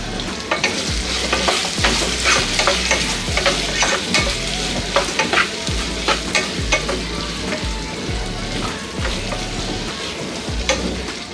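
Potatoes frying in oil with salt, a loud continuous sizzle with rhythmic scraping and stirring strokes against the pan, close and without talk.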